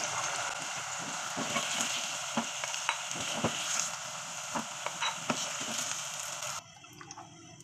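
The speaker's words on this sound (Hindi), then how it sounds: "गाजरें हमारी फ्राई हो चुकी हैं, अब हम इसको बॉल में निकाल लेंगे गाजरों को।" Carrots fry in a pan for a mixed vegetable dish, a steady bright sizzle broken by scraping stirs of a spoon, close and continuous, then dropping to a quieter hiss near the end.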